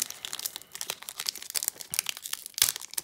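Crinkling and tearing of tightly glued packaging on a sealed Japanese Pokémon card box, close and continuous with sharp rips and crackles throughout.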